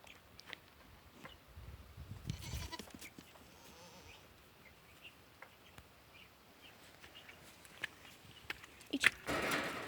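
A goat bleats faintly a couple of times among quiet rustling, footsteps and soft outdoor background noise, with guinea fowl grazing nearby.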